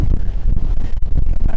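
Strong wind buffets the microphone outdoors at a French fishing competition, a loud, continuous low rumble with gusty swells and brief dips throughout.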